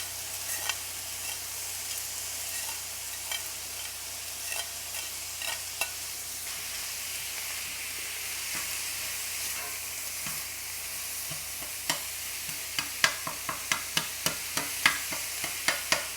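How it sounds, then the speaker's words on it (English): Meat and sausage sizzle steadily in a hot pan while a utensil stirs and scrapes through them, with sharp clicks of metal on the pan growing louder and more frequent near the end, close and with no talking. "Gonna turn my pan back just a bit and mix this all in."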